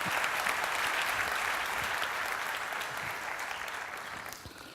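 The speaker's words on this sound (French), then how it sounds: "applaudissons encore" Sustained audience applause at a keynote event, a dense wash of clapping from a large crowd that gradually tapers off toward the end.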